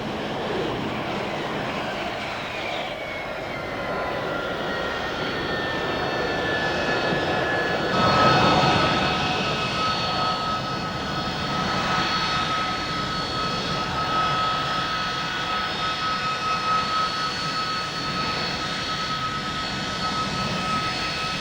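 A Harrier jump jet's engine roars in a steady, loud jet whine with rising and sustained high-pitched tones and a rumbling swell midway, continuous throughout with no talking.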